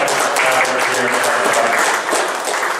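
A crowd at a memorial motorbike show breaks into loud, dense applause that holds steady throughout, close and full with a slight dip near the end.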